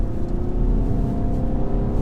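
Steady, close engine drone from a 2017 VW Tiguan 150hp diesel revving hard under acceleration, a dense rumbling hum that stays level throughout without any voices.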